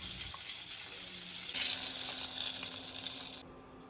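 Fish fried crisp in hot oil in a Bengali home kitchen: a steady, close frying hiss that swells louder partway through, holds, then drops back to a softer sizzle.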